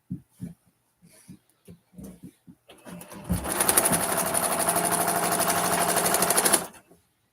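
A sewing machine starts up after a few scattered knocks and soft sounds, then runs at a steady fast whirring clip for about three seconds before stopping abruptly.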